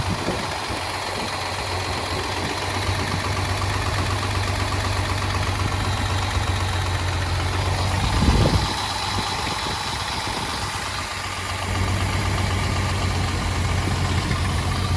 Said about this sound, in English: the 65 230 SL by Mercedes-Benz has achieved a nice warm idle